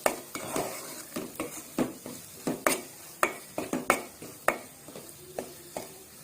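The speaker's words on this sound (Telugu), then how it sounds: "దీన్ని 1 నిమిషం పాటు ఇలా ఆయిల్లో వేయించుకోవాలి." Ginger garlic paste with onions frying in oil in a pan, heard as a steady faint sizzle under a rapid, irregular series of sharp spoon-on-pan stirring clacks, with no talking.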